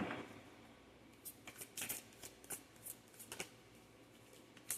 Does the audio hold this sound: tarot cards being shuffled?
yes